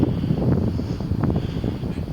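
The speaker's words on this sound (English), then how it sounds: "still quite a breeze, a cold breeze" Cold night wind blowing across open hillside on Pendle Hill, a steady low rumble buffeting the microphone with gusty swells throughout and no voices.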